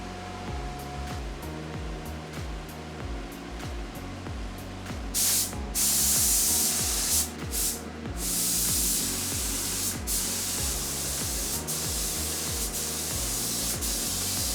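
Primer sprayed onto 3D printed Porsche car panels, bursts of loud hissing spray close by over a steady machine hum with a repeating mechanical rhythm, and no talk.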